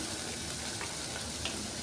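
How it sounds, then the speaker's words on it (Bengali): Chopped onion and ginger frying in hot mustard oil, a steady, dense sizzle and crackle throughout with no talking. "এবার আদা পেঁয়াজটাকে একটু ভালো করে ভাজা ভাজা করে নিচ্ছি"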